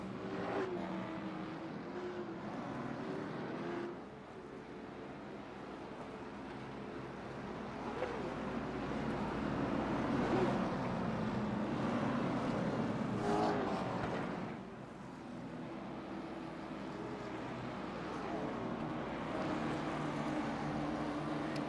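Race cars running a pace lap behind the pace truck at Nashville Fairgrounds Speedway in iRacing: a steady, fairly quiet engine drone with a few gentle swells and dips.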